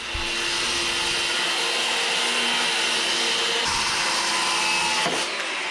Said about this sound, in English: Now I'll cut my piece of plywood.